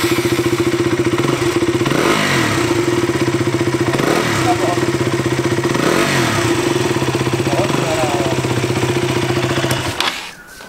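A KTM Duke 200 motorcycle engine runs steadily at a loud, close idle with a rhythmic thumping throb and occasional slight revs, cutting off near the end, while people talk over it.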